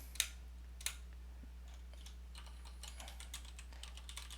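Someone types on a computer keyboard. A couple of sharp key clicks stand out first, then a run of soft, quick keystrokes follows over a steady low electrical hum, with no talking.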